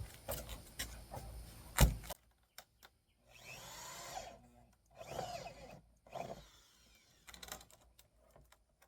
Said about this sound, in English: let's get the drill and start drilling some holes